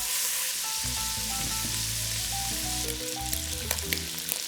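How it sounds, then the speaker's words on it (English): Pork belly browning in a pan for Bolognese ragù gives a steady, close, loud sizzle and fry hiss that runs unbroken, with a few light clinks near the end. "We're letting it brown before adding the veggies."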